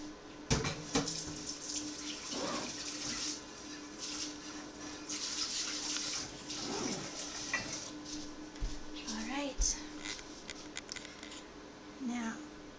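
Tap water running into a sink while making apple cider vinegar shampoo bars, a steady splashing stream with clinks and handling noises from the sink throughout.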